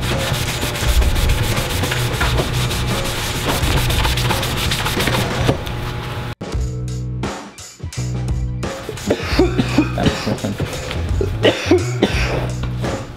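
Graffiti ink being buffed off a surface with a graffiti mop soaked in methyl hydrate: steady, close scrubbing and rubbing strokes, continuous at first, then a short pause and rougher, more uneven bursts of rubbing.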